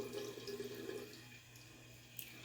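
Lukewarm water runs and splashes softly while a clay face mask is rinsed off, a faint steady trickle of tap water with light drips.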